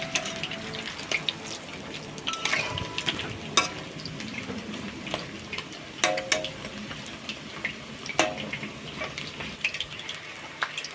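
Chicken pakoras bubble in hot oil after being turned over, a soft close sizzle with scattered ticking pops and crackles, fairly quiet and with no talking.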